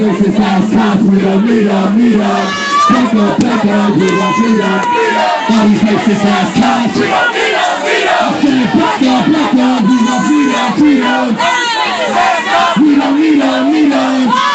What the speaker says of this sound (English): I'm in the middle of the crowd.